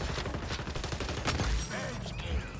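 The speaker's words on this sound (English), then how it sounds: "I forgot how good the sniper rifle feels." Sniper rifle shots in a Call of Duty–style shooter game, sharp cracks among dense game noise and steady background sound, with some talk mixed in.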